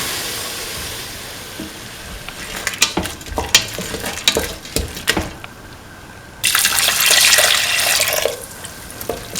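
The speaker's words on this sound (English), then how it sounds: "pour in 300 ml of thin coconut milk," Thin coconut milk pours into a pan with a steady rushing splash after a few scattered clinks and stirring taps, fairly close and loud.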